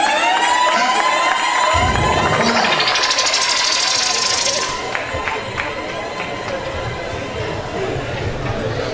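A gala crowd at a French evangelical church event erupts in loud cheering and applause with shouts and whistles, a dense roar that stays strong and then settles slightly but continues to the end.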